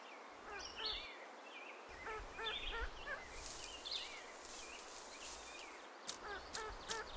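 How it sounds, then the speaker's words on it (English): Repeated soft clucking calls from a hen guiding her chicks come in quick, uneven runs over a quiet outdoor evening background, with a few faint higher peeps and clicks. "The chicks follow their mother, who guides them with her clucks."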